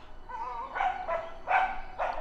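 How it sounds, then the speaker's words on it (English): A small yappy dog barks outdoors beside a railway cutting near the Conisbrough viaduct, giving four short, sharp yaps in quick succession, close and fairly loud, with no voices over them. "I've got a yappy dog, ruining my audio."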